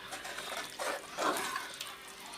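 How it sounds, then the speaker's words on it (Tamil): Water being poured into a pot of beef kuzhambu, a soft, continuous splashing and trickling that swells for a moment and stays fairly quiet throughout, with no voices. "தண்ணி உங்களுக்கு எவ்வளோ தேவை வருமோ அளவுக்கு நீங்கள் ஊற்றிக்கோங்க"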